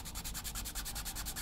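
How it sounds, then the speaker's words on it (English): Sanding stick rubbed back and forth over a part of a 1/84 scale HMS Victory model kit, a steady run of about a dozen quick, close, evenly paced rasping strokes with no talking. "Right, nice simple little sanding there."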